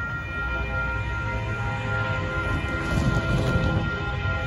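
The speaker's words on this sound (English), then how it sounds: "here comes the, the northbound auto train. Oh, he's walking his horn full blast." A Union Pacific freight auto train horn blares in one long, steady, loud chord at a road crossing in Kyle, Texas, over a low rumble of the passing train, with no talking.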